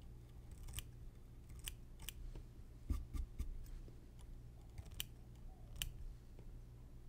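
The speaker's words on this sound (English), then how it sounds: "We're just gonna trim the fibers off the top here." Small scissors snip fibers off the top of a large topwater gurgler fly for bass or saltwater fishing, a series of sharp, faint, close cuts spaced irregularly over quiet background.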